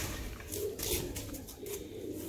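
Pigeons kept by a fancier for breeding coo in soft, low, repeated murmurs, steady and close against a constant background hum with no talking.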